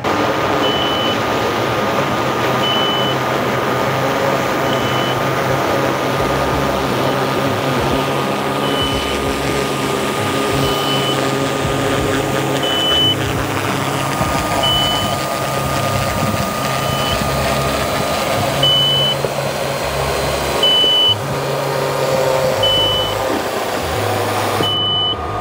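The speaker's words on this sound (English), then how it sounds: "then the drone will land itself into the cradle, and then the dock will close" A DJI Dock 3 closes after its drone lands, a steady mechanical hum under evenly spaced short electronic beeps that repeat throughout.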